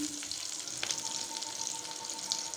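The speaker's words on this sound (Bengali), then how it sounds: "কড়াইতে কিছুটা তেল দিয়ে কালো জিরা ফোড়ন দিয়ে দিলাম কাঁচা লঙ্কা চিড়ে দিয়ে দিলাম কিছুটা পেঁয়াজ কুচি" Nigella seeds, slit green chilli and chopped onion frying in oil in a karai, a soft steady sizzle with light crackles and a few faint stirring clicks, quiet and close, with no voices.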